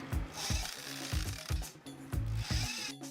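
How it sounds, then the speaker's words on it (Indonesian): Repeated rhythmic mechanical clicking and grinding of a power drill driving screws into a joist while laying WPC wood-composite decking, with bursts of whirring in between. "Bor sekrup di titik berikutnya."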